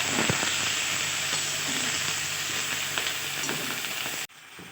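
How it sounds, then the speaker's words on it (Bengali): Vegetables sizzle and fry loudly in a pan for a brinjal and bean mash while a spoon stirs them with occasional scrapes and knocks, and then the sound stops abruptly. "ভালো করে সবজিগুলো নেড়ে চেড়ে মিশিয়ে দেব।"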